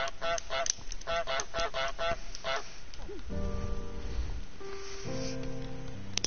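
A cartoonish goose in a video game lets out a rapid burst of loud, nasal honks, then the honking gives way to game music and sound effects with sustained tones.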